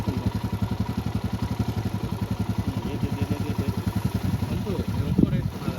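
Motorcycle engine on an offroad hill at Kanchanagiri, revving in a steady rapid pulsing throb, loud and close, with a sharper rise near the end; voices speak over it.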